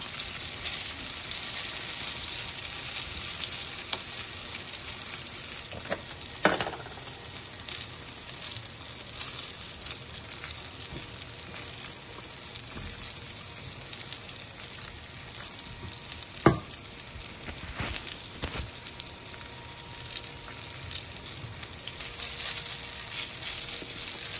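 Cornstarch-coated eggplant pieces fry in a pan with a continuous close hiss of oil, broken by occasional spatters and two sharp knocks of a utensil, with no voices.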